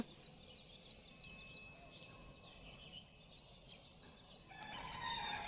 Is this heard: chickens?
yes